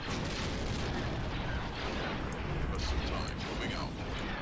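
Dense, continuous space-battle gunfire from the strategy game Star Wars Empire at War: overlapping blasts and laser shots rumble and crackle at a steady, loud level, with someone talking over the din.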